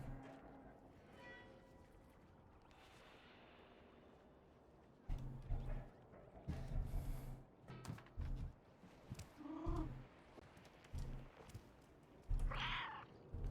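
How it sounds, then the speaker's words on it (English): A cat in the video game Stray meows in a few short, rising calls partway through, close and clear over a low ambient game soundscape with scattered thumps and movement sounds. "Meow. Meow."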